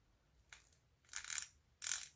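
Watch bezel being pressed onto a watch case during a refurbishing job, giving three short, faint metallic clicks, each stronger than the last, in a quiet room.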